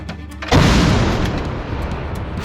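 One loud, close artillery cannon boom erupts suddenly, followed by a long rumbling decay over outdoor ambience.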